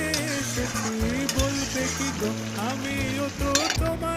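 Spatula stirring boiled potatoes in a pan after a little sugar is added, steady scraping and sizzling with clinks of metal on the pan, continuous and close.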